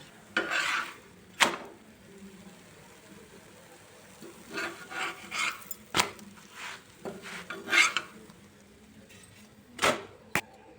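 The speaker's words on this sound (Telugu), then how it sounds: "చపాతీలన్నీ ఇలానే కాల్చుకుందాం మొత్తం అటు ఇటు తిప్పుకుంటూ" A chapati roasting on a pan, pressed and turned back and forth: soft scraping and rubbing strokes with a few sharp taps of a utensil against the pan, intermittent and fairly quiet in a still kitchen.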